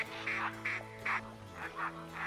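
A mallard duck call in the hunting game theHunter Classic sounds as a series of nasal quacks, about six short honking blasts in an uneven rhythm, fairly faint and without talk.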